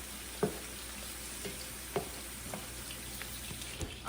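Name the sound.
onions sautéing in a pan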